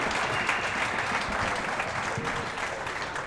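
Crowd applauding a reverse pinch kill shot at a racquetball tournament semifinal, steady dense clapping that holds at an even level throughout, with faint voices mixed in.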